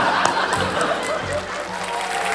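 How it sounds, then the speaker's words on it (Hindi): Studio audience applause on a Hindi TV quiz show, a steady wash of clapping that holds for the whole stretch, with voices and light chatter mixed in underneath. "तालियां"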